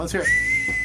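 A person whistles a single sustained high note right after a short spoken phrase.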